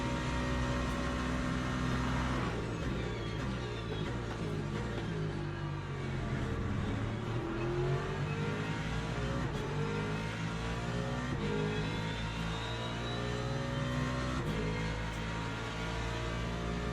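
A Ford Mustang in a racing video game, its engine droning and revving continuously with rising and falling pitch through gear changes, loud and close, with no voices.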